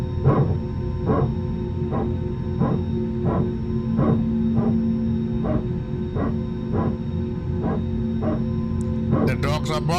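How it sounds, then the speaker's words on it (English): Dogs barking in a regular series of sharp yaps, about a dozen evenly spaced barks close by over a steady droning hum, with a voice briefly at the end. "The dogs are barking."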